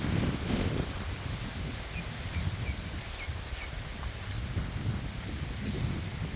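Wind sweeps steadily through a corn field during harvest, a continuous rustling, breathy noise with gusty swells and faint microphone buffeting, close and moderately loud, with no talking.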